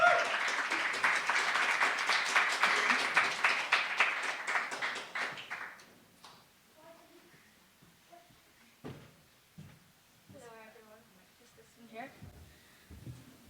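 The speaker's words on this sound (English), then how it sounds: "So clap her to the stage," Audience at a university festival poetry event applauds a student poet, a dense burst of clapping for about six seconds that fades out, followed by a few thumps and a voice talking.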